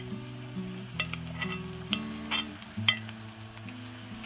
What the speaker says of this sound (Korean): 넓은 팬에 엑스트라 버진 두르고 불른 강불로 버섯들을 다 넣고 볶아줍니다.